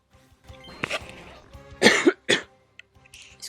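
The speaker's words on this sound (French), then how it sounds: "Excusez-moi pour avoir toussé." A few sharp coughs close to the mic, with a couple of loud bursts in the middle and a quieter, scratchy sound before them.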